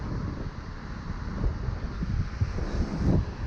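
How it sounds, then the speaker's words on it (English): Gusty wind buffeting the microphone on a sunny day while paddle boarding, a low rumbling roar that swells and dips irregularly throughout. "It's gonna be a little bit windy."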